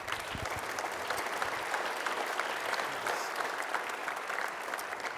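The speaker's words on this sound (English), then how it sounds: "Would you give him a general round of applause?" An audience at a business talk on Ontario's economic blueprint gives a steady, sustained round of applause, many hands clapping evenly throughout at moderate distance, with no voices on top.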